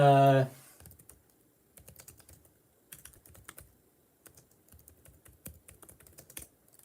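Rapid typing on a computer keyboard, uneven bursts of clicking keystrokes after a short loud sound at the start, fairly close and alone with no talk.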